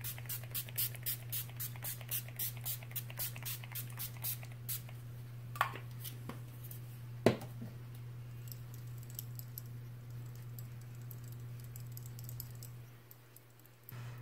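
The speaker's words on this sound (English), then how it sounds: "I'm going to use my Urban Decay All Nighter and just give my face a spritz to lock this all in" A run of about a dozen quick, soft spritzes of Urban Decay All Nighter setting spray onto a face, close and gentle over a steady low hum, followed by quiet.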